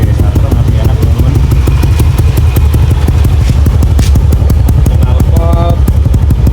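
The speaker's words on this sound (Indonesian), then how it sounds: "Knalpot suaranya nggak beda jauh, masih tetap adem kayak sebelumnya." Yamaha Aerox scooter with an upgraded head running, its exhaust giving a steady, pulsing low idle with slight revving, loud and close throughout.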